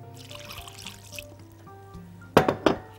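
Liquid splashing into qatayef batter in a bowl, a short burst of pouring and sloshing near the end after a quieter stretch, close and distinct.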